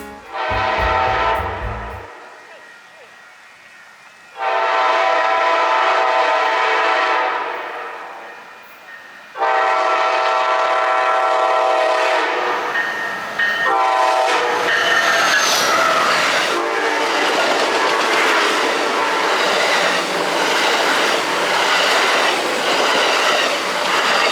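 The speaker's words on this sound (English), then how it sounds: "a second southbound Surfliner train would pass the station, blowing its horn to warn these trespassers" A southbound Amtrak Pacific Surfliner passes a station, sounding several long, loud horn blasts in bursts, then rumbles by closely with steady wheel clatter and rail noise, no voices.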